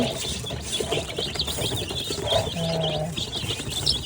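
Colourful young chicks cheep in their new cage, thin high peeps and tweets scattered across a steady background hum, fairly close with no talking.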